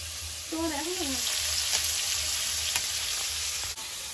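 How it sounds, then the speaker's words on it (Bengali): Fish sizzling steadily in hot oil in a pan during village home cooking, a constant close frying hiss with a few brief clinks and a short voice early on. "বৌদি একটার পর একটা মাছ ভেজে যাচ্ছে"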